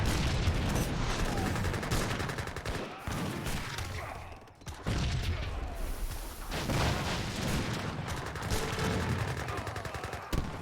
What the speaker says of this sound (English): Gatling guns in excellent numbers.